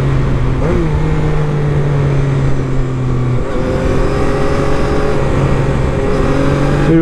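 A 2025 Zontes 703RR motorcycle accelerates while riding, its engine droning loudly and steadily with rising pitch through gear changes, heavy wind noise close up.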